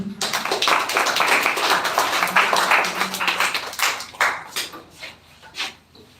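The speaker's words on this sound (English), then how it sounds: "please welcome with a huge round of clap, MD Javed" An audience claps in welcome for a speaker, a dense roomful of applause that holds steady and then thins into scattered, tapering claps.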